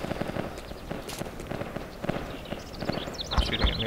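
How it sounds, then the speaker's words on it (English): Sniper gunfire in the Project Reality Battlefield 2 video game, a series of sharp cracks spread through a busy battlefield din, with several louder bursts near the end. "Take it sniper fire from somewhere southwest to northwest."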